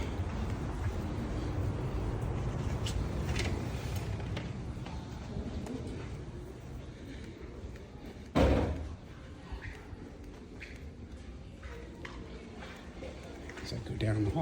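A side door of a college campus building in Montlake Terrace opens and then shuts with a single loud thud, set against steady indoor room noise and faint voices.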